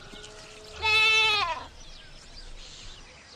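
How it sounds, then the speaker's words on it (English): A goat bleats once on a farm, a loud, quavering, strongly voiced cry lasting under a second and standing out clearly against quiet background. "Goat. Goat."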